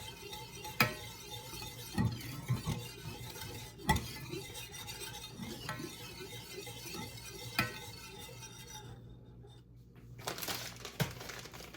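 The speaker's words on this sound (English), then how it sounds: "I need to stir this for at least 2 minutes until it gets thicker." Milk, butter and flour mixture with a couple pinches of pepper being stirred in a pot, giving soft scraping and clinking of a utensil with a few sharper clicks, steady and close, no talking.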